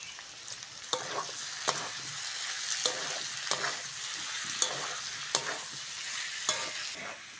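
Ginger garlic paste fries with browned onions in a pan and is stirred often, with a soft sizzling bed and regular sharp scraping strokes about once a second.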